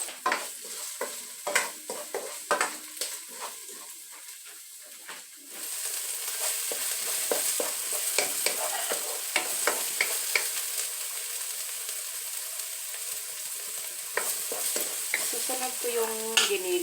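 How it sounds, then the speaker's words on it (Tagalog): Garlic sizzles and crackles in a hot pan for spaghetti sauce, with quieter stirring clicks at first, then a steady, loud frying hiss with scattered pops and spoon scrapes. "Igisa ko muna yung bawang"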